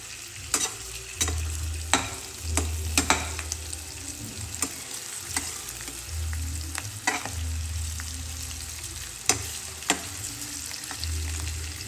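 Stuffed bitter gourd (karela) stir-frying in hot oil: a steady sizzle runs throughout, with repeated sharp clacks of a spatula against the pan at an irregular rhythm, close and moderately loud, no voices.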